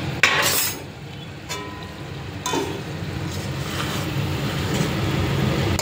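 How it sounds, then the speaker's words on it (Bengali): A lid lifted off a pan of boiled potatoes and the food turned over, a few sharp metallic clinks and scrapes near the start, then a steady low sizzle and kitchen hum. "আবারও উল্টিয়ে নিচ্ছি ঢাকনা সরিয়ে"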